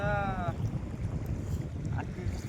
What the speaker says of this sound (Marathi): नुसतंच वारं सुटलं इकडं